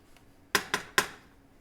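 A spoon clinks three times against a container while charcoal powder is added to a homemade soap mixture, the sharp metallic taps coming close together and then ringing out in a quiet room.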